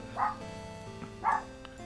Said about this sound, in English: with the dog barking indicating that it's almost time to go